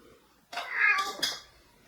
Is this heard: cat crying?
yes